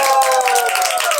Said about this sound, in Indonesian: Di sini ini tepuk tangan.